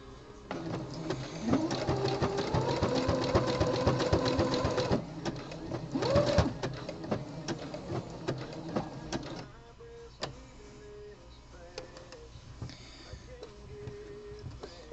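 A sewing machine stitches stretch fabric, joining the pouch to the body of a sport brief, with a loud steady motor whir in bursts, brief pauses and short restarts, and quieter clicks and handling sounds toward the end, all close and without talking.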